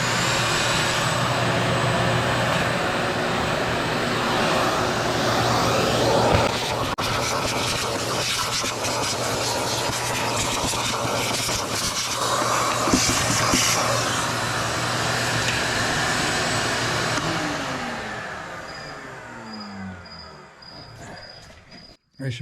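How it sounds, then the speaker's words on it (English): A vacuum cleaner sucking mouse debris out of a GM truck, a loud steady whining roar with rattling grit and debris, running continuously before powering down and whirring to a stop near the end. "now we're going to get the vacuums and get rid of the mouse stuff."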